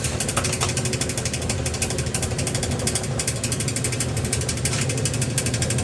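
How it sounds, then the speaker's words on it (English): An electric motor, geared down about three to one, drives the impeller of a homemade agitated gold-leaching vat with a steady, close mechanical rattle and churning whir that never lets up. "That's probably a 1700 RPM motor, gear down factor of 3."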